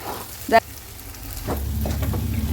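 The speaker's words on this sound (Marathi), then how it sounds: "चीज टाकल्यानंतर कंटिन्यूस हलवत राहायचं." Pav bhaji with two cheese cubes stirred in a hot pan, giving a short scraping clatter of the spoon followed by a steady low sizzle that carries on to the end.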